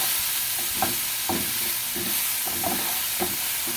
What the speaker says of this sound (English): stir it in well,